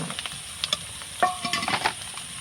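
Pointed gourd, onions and chillies fry in a pan, with a steady close sizzle broken by a few scraping stirs and light metallic clinks.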